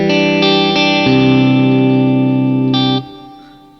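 Electric guitar played through a pedalboard with a plate reverb setting: sustained chords ring with a distorted, effected tone and a lush reverb tail that decays after the final strum, with no talk.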